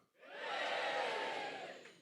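A live comedy show audience at the Edinburgh Fringe cheering and shouting together in one loud, sustained roar that swells quickly and fades after about two seconds, with no talking over it.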